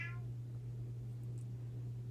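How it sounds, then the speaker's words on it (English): A house cat meows once, briefly and somewhat distant, at the very start from the back of a room, then only a steady low electrical hum remains. "my cat is meowing away back there"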